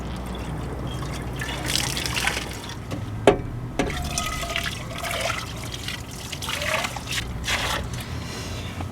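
A tap runs and trickles while dishes are washed at a Jeep-living camp setup, water splashing and dribbling unevenly with a few small clinks and one sharp knock, close and moderately quiet, with no speech.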